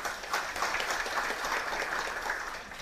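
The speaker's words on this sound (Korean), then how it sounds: "박수 보내주십시오." Audience applause at a public policy forum on student safety in Gwanak district, a steady wash of many hands clapping at moderate distance with no talk over it.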